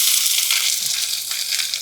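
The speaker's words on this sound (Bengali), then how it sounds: "এবার আমি নারকেলগুলোকে ভেজে নেব।" Grated coconut frying in a pan, a steady close hiss and sizzle running throughout with no talk over it.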